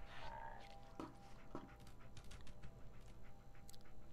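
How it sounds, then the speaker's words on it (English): A dog in the Fallout 4 video game pants softly with a few faint whimpers and clicks in a quiet game scene, low in level and heard alone. "Dog. I know."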